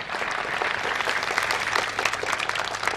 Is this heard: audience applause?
yes